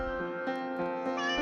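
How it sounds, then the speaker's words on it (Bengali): A cat meows in a few short, repeated calls, fairly close and clear, set over a steady harmonic background that sounds like music. "বিড়াল ডাকে মিউ মিউ"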